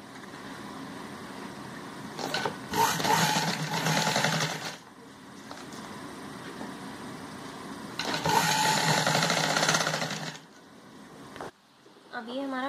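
Lace is stitched onto a kurti by a sewing machine in two loud whirring bursts, the first about two seconds and the second about two and a half seconds, with quieter handling sounds between and after them.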